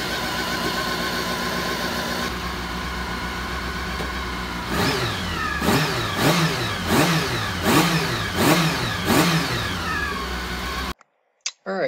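A motorcycle engine started without choke runs at a steady idle with exhaust extraction running, then takes a series of about seven quick throttle blips, each rising and falling sharply, before cutting off abruptly.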